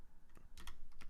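Keys clacking on a computer keyboard while code is typed, a few quick close taps spread unevenly over about a second, moderately quiet with no voices.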